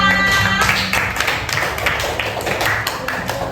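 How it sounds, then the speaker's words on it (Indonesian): A fourth-grade classroom full of pupils clapping, a dense patter of applause that stays fairly even throughout. "Tepuk tangan untuk kita semua."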